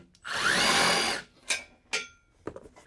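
A power tool spins out the last bolt holding the board on a treadmill being torn apart: one sustained whirring burst about a second long, then three short blips, close and loud.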